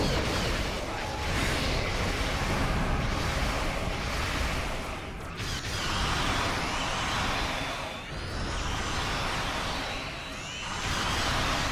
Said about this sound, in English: The Doomsday Machine is about to open fire!